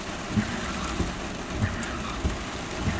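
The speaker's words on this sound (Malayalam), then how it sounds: "അരമണിക്കൂറോളായി പെയ്യുന്ന മഴയിൽ റോഡുമലൊക്കെ വെള്ളം കെട്ടി നിൽക്കൽ തുടങ്ങിയിട്ടുണ്ട്." Heavy rain pours onto a waterlogged road in Al Ain as a soft, constant hiss, with low dull thuds recurring at a steady rhythm beneath it.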